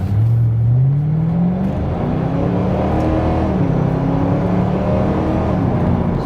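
A damaged Ford Mustang GT bought as a salvage-auction car drives off, its engine rising in pitch as it accelerates and then holding a steady loud drone with shifting tones, close by and without talk.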